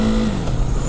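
Brief burst of a 2016 KTM Duke 390 single-cylinder motorcycle engine revving, loud and close, with a rising then settling throttle note.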